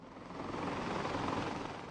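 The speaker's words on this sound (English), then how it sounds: "The helicopters keep coming, packed with rescued flood victims" Rescue helicopters carrying flood victims fly overhead, a steady, fairly faint rotor drone that swells slightly and holds without speech.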